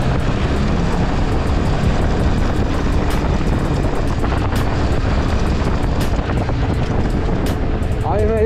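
A Yezdi Scrambler motorcycle is ridden at full throttle at night, its engine roaring loud and unbroken with heavy wind rush and a brief rising whine near the end.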